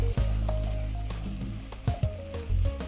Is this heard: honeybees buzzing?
no